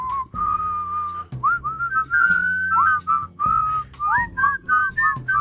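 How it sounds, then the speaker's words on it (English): Whistling of Jingle Bells, bright and steady, with several people whistling together over a low background. "That's some good whistling."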